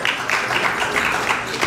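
An audience applauds at a Bowtie Bash event in Miami, a brief, dense spatter of claps that stays fairly even throughout.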